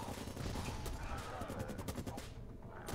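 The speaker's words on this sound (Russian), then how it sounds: "Чувак с каким-то там дробовичком тук-тук стреляет." Shotgun fire in the video game Camp Defense: a fairly quiet, rapid string of repeated shots that continues steadily over dense background game noise, then thins out toward the end.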